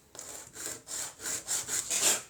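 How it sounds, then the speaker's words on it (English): Rhythmic back-and-forth strokes of sandpaper rasping on pine wood, about seven even passes, close and moderately quiet. "I use a little bit sanding paper"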